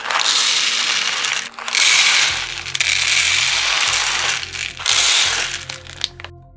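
Artkal colour-changing fuse beads poured out of a packet, a loud dense rattling cascade of small plastic pieces in several bursts separated by brief pauses and crinkling packaging, close up.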